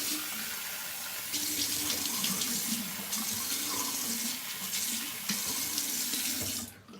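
Warm water runs from a tap into a sink in a continuous close splashing stream, its tone shifting a little as hands pass under it, then tapering off at the end.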